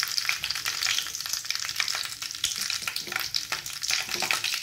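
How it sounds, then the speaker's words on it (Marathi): Mustard seeds crackle and sizzle in hot tempering oil for bitter gourd curry, a dense, steady frying hiss with quick popping crackles throughout, close and loud, no talking. "थोडंसं तडतडलं की मग आपण याच्यामध्ये थोडीशी मोहरी टाकणार आहोत"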